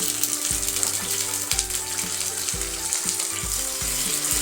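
Tomatoes and onions fry in a pan with a constant hiss, broken by regular scraping strokes of a spatula that repeat about twice a second.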